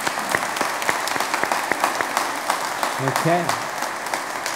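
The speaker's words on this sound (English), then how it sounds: "Let's give a round of applause to these kids." Applause for children at a church worship service: brisk, continuous clapping from a congregation, fairly close, with a brief spoken word partway through.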